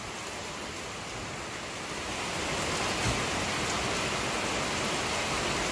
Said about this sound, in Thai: ฝนตกหนักมากเลยนะวันนี้